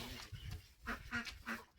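Ducks gathered outdoors give a quick series of three faint quacks in a row, soft and somewhat distant over low background noise.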